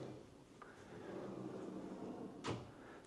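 A soft-close kitchen drawer in a newly built five-bedroom home glides shut, ending in one faint, muffled thud against a quiet room background.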